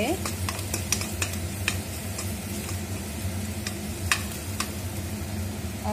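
Katla fish kalia masala with salt being stirred in an oily pan, a steady sizzle under a series of sharp spoon scrapes and taps against the pan, close and moderately loud, with no talking.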